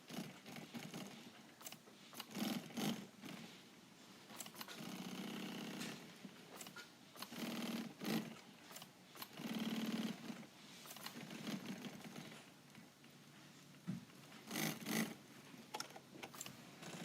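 A double or single needle sewing machine runs in short bursts, stitching 1-inch heavy webbing through layers of fabric, its steady mechanical whir stopping and starting several times.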